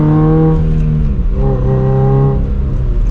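Manual Toyota GR86 fitted with an AWE exhaust revs hard and steadily, a loud close engine drone that rises and dips in pitch through a few throttle blips, with no talking.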